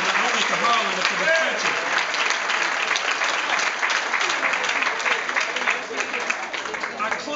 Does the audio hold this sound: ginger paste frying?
no